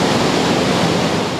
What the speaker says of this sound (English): Water is gushing from Warragamba again.